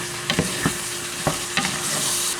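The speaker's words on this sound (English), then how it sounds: "I'm gonna put the onion in here with the ground beef." Onion and ground beef fry in a skillet with a steady sizzle, broken by several scraping stirs of a spatula that scrape the pan at irregular intervals, close and moderately loud with no voices.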